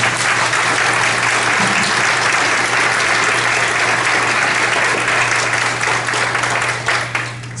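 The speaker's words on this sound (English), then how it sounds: "First of all, a big round of applause." Conference audience applause at a tourism session, a long steady wash of clapping from many hands at an even loudness that tapers slightly at the very end, with a low hum beneath.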